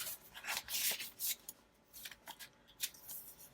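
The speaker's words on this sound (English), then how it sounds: "I'm just going to cut the bottom of this off and see if it fits in the envelope." Scissors snip through paper card at close range, a quiet series of short, crisp cuts and rustles in an uneven rhythm, with no talking.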